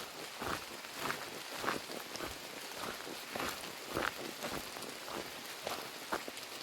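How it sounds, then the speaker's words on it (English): Rain falls steadily on the Appalachian Trail in flat, beaver-flooded terrain, a soft continuous patter with scattered louder drops or footfalls, fairly faint and outdoors with no talk. "You can probably hear the rain."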